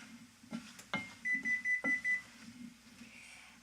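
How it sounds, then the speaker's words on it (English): A short series of about six evenly spaced electronic beeps from an oven signaling it has preheated, moderately loud, among faint kitchen clatter. "that beep signaled that my oven has been preheated"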